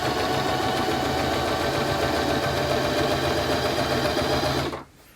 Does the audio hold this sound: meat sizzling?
no